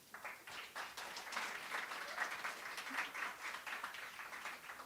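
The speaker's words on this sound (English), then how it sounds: "Can we round of applause for them as well?" Applause from an open mic audience for the kitchen and live-stream staff, a lively patter of individual claps that swells and continues steadily, close and fairly quiet, with a faint voice briefly underneath.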